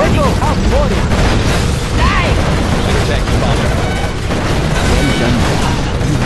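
Rocket launcher fire and explosions in the Command & Conquer Generals real-time strategy game, a loud stretch of bursts, booms and gunfire with voiced unit responses layered over the battle.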